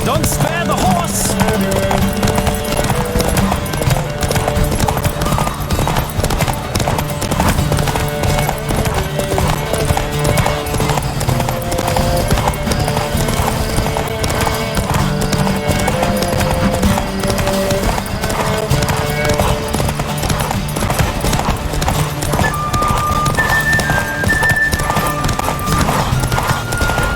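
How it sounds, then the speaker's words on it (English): Horses galloping in a race in the video game The Witcher 3, with continuous rapid hoofbeats, occasional whinnies and game music throughout. "Don't spare the horse!"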